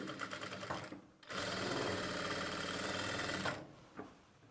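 A sewing machine stitches thread piping around a square neckline, whirring in a short burst, pausing briefly, then running in a long steady close-up drone before stopping with a faint click.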